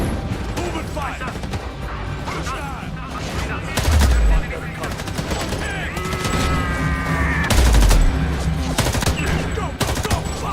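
Sustained gunfire in Homefront: The Revolution, dense overlapping shots and bursts with two heavier booming impacts, loud and continuous under shouted voices.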